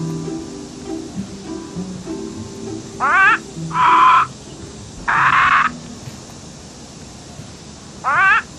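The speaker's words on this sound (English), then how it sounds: "A parrot squawking." A parrot squawking in a neighbor's garden, four short harsh calls at moderate distance, alone over a quiet outdoor background.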